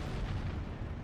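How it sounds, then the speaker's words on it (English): Cromwell tank 75mm cannon shelling in Steel Division 2, heavy, rumbling low booms merging into a continuous dense barrage with no talk. "Also got a Cromwell 5 with a 75mm cannon on the front, lobbing shells at them."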